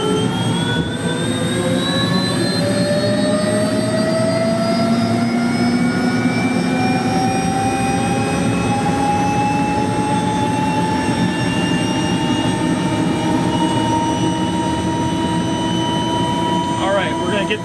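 Turbine engine of a 1979 Bell JetRanger helicopter running after startup, a loud, constant high whine with layered tones that climb slowly as the engine spools up, over a steady low rumble.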